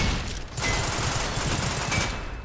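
Shorty shotgun blasts in Synthetik 2, a dense run of heavy, punchy shots that fire rapidly with hardly a pause, loud and close.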